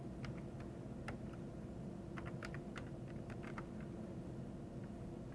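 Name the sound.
typing a DOS copy command on a computer keyboard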